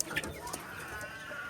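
Domestic chickens and chicks cluck and cheep in a rooftop coop, a few short, soft calls over faint background noise.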